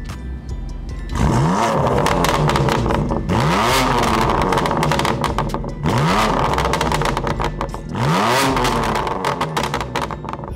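BMW M2 Competition engine revved with its exhaust valves open, four loud repeated rev bursts rising and falling, each ending in a crackle, heard up close with no talk.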